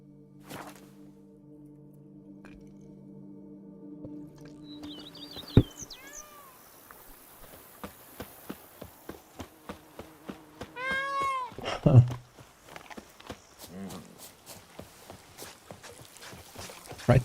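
Cat meows from The Witcher 3, a couple of short mewing calls among game sound effects, clicks and footsteps, moderately loud against quiet backing.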